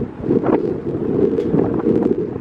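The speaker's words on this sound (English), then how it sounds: "God almighty, this wind." Strong gusts of wind buffet the microphone outside a vacant Marathon gas station, producing a continuous low rumbling roar that swells and dips with no other sound.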